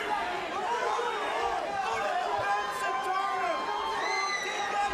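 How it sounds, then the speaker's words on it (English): A loud crowd at an MMA bantamweight title fight roars and shouts continuously, a dense wash of cheering and chatter with rising whoops layered through it. "Loud crowd here, and they're all in Ocho's corner"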